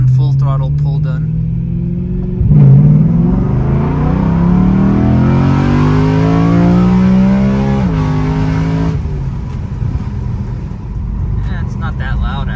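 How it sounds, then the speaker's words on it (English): BMW E93 M3 with a budget valved exhaust under a full-throttle pull, the engine note climbing steadily for several seconds before a gear shift, then easing off to a lower rumble, loud and close. "Let's get at least one full throttle pull done."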